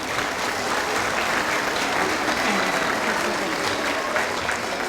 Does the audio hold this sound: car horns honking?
no